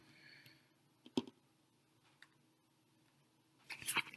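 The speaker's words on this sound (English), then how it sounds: "I'm going to pull some more cards." Tarot cards being pulled from a deck during a reading: a few sparse, crisp clicks and soft snaps spread over a quiet background, ending in a louder cluster of card shuffling and flicking.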